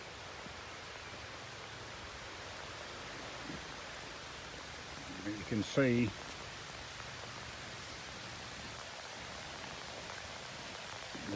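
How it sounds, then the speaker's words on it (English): Rain falling steadily on an outdoor building site where holes are being dug for piggery posts, a constant soft hiss throughout, with a brief spoken phrase in the middle. "it's starting to rain again"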